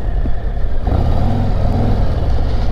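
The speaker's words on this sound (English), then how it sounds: "the exhaust seems to be quite a bit throatier, maybe louder than 23 and earlier models" A heavyweight touring motorcycle, a post-2023 model with a throaty exhaust, rumbles steadily at close range with a low, even drone and a slight rise partway through.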